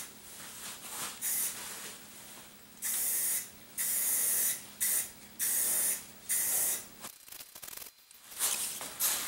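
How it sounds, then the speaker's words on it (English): Black Rust-Oleum spray paint from an aerosol can being applied to a rebuilt park bench, heard as a series of loud, close hissing bursts of about a second each, separated by short pauses. "We put a first coat of black Rust-Oleum."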